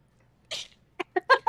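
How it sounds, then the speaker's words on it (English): Several sneezes from someone with seasonal allergies: one airy sneeze, then a quick run of short, sharp sneezes close to the microphone in a quiet room. "There are different sneezes according to the season, okay?"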